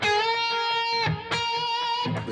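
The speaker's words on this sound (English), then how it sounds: "If I were to play it off the same note, this is a whole step." Electric guitar whole-step string bends played twice in a row, each note sustained and pushed up in pitch with a slightly overdriven tone, up close and alone without talking.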